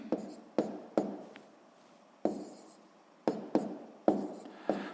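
Pen or pencil writing numbers by hand on paper for column multiplication, a series of short scratchy strokes and taps in irregular clusters, close and quiet with no talk.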